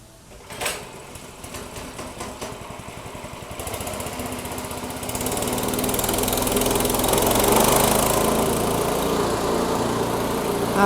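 A 2E Micro-1 multipurpose branch shredder engine starts up and runs, a steady droning motor that grows louder and fuller as it revs up and holds a continuous buzzing roar.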